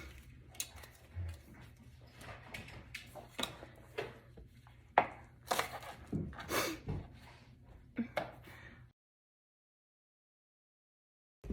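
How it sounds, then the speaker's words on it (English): A knife chopping green onions on a cutting board at home, a quick run of sharp close taps in uneven rhythm with small pauses, ending abruptly in silence. "I'm gonna go ahead and slice some green onions while we're waiting for that."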